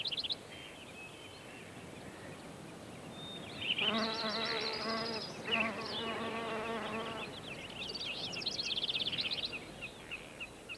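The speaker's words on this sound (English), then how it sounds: "Once the bumblebee's body temperature has been boosted by its internal heater, the fuel from the flowers is sufficient to keep it going while daylight lasts." Buzzing of a bumblebee moving among flowers, a steady close drone that swells and fades in bursts as the insect moves nearby, with faint bird chirps in the background.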